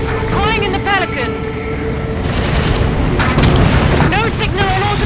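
A massive reactor explosion in the Halo 5 video game, a sustained loud roaring rumble with a surge partway through, heard under game dialogue.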